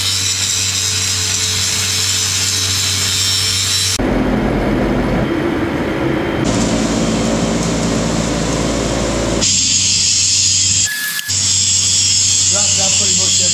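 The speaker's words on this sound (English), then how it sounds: "This one here, look, it's an automatic one. You see where it's been cutting, look, it cuts bits out of." An automatic machine cuts pieces out of steel plate in a fabrication workshop, giving a loud, steady mechanical drone with shifting tones and clattering that runs through the whole stretch, while people talk nearby.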